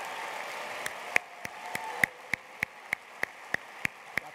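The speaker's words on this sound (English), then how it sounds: "can we have a round of applause for them?" Sparse, irregular hand claps ring out for a new class of students and their families at a school community event, a dozen or so sharp separate claps over a faint background murmur.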